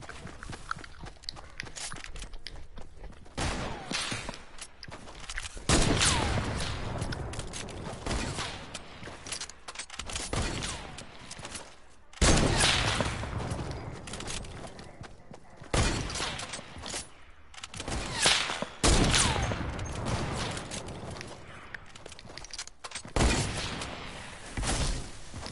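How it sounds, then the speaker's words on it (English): Sniper rifle fire in a duos shooter game battle, with loud sharp shots and bursts of gunfire that recur every few seconds in a busy, noisy mix, with faint voices in the background. "Oh, sniper battle in here. We're sniper battling."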